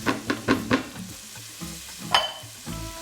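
Onions frying in a pot for a vegan Sri Lankan pumpkin curry are stirred with four quick scraping strokes, then a softer pause and a final clatter of the spoon, over a low sizzle.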